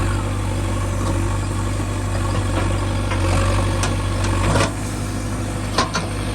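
A JCB backhoe tractor's diesel engine runs steadily while it cleans out a drain, a loud continuous low rumble with a brief dip and a couple of clunks near the end.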